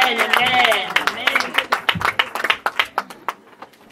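Applause and rhythmic hand clapping for an evangelist in a church service, beginning under a voice and then continuing as a quick run of individual claps that thin out and fade.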